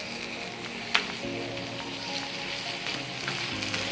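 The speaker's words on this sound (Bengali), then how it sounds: "সব দিকটা টার্ন করে করে ভাজতে হবে" Chicken shashlik fries in a pan over a medium flame with a steady, close sizzle, broken once early by a sharp click.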